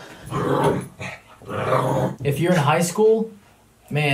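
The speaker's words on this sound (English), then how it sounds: "that's my dog. That's my babe." A dog growls and yips in short bursts close by, mixed in with someone talking over it for most of the stretch.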